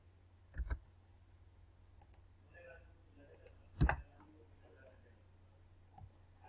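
Mouse clicks at a computer while building an app, a few sharp isolated taps spaced seconds apart, close but soft, with quiet murmured talk around them.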